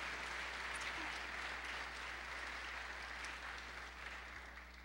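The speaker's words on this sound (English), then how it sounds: "could we give them a round of applause this morning?" Audience applause at a church service, steady broadband clapping from a large crowd holding level throughout and tapering slightly toward the end.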